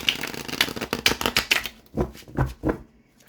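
A deck of tarot cards being shuffled during a reading, with crisp riffling bursts in quick succession, then a few separate louder shuffles, close and alone without talk.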